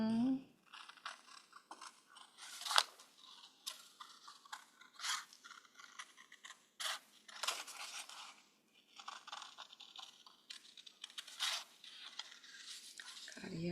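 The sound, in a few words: cutting paper around with scissors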